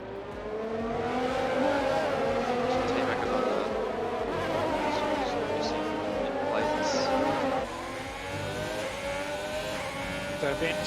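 Formula 1 cars from the F1 2020 video game race together in a league event at the Abu Dhabi Grand Prix, their engines whining in a steady layered drone throughout, with commentary talking over it.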